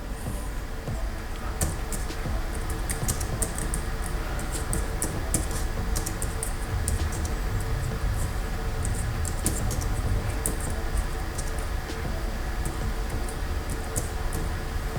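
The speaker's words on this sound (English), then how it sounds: "I'm typing with one hand" Irregular, uneven one-handed keyboard tapping runs continuously over a steady background hum, soft clicks at an unhurried pace.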